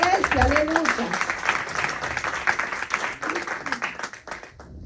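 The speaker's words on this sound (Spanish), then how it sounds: "Denle un aplauso al Señor porque Él se lo merece." Steady applause from a church congregation with a voice speaking over it, loud and sustained throughout.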